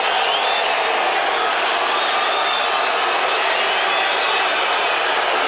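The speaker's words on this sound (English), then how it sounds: "a lot of people are clapping here" A boxing crowd claps and cheers after the decision in a Tijuana, Mexico fight, a dense, steady roar of applause and shouting from a large arena audience with no pauses.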